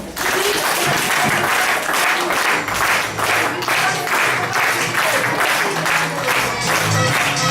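Dense, steady applause fills a kindergarten graduation hall, the audience clapping loudly and continuously with faint voices underneath.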